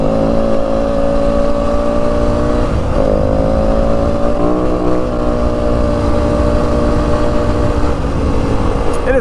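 Yamaha WR250F dirt bike engine droning steadily while riding through the Santa Rita mountains of southern Arizona on a cold morning, a loud continuous tone with slight pitch shifts as the throttle changes.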